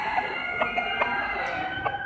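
Game rooster crowing at a poultry show, a loud close cock-a-doodle-doo over a busy, clucking background of other fowl.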